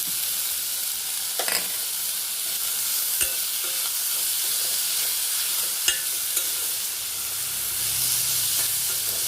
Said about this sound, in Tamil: கொத்தமல்லி, இஞ்சி, பச்சை மிளகா, ஜீரகம், இதையும் இதில் போட்டு நல்லா வதக்கிடலாம்.